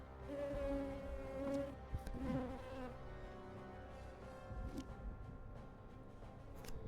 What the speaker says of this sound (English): Be funny to kill this guy with a swarm of bees,